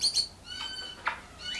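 Parrots in a rescue home give a quick run of shrill chirps and whistled calls, several short bursts in a row, close and fairly loud with no voices.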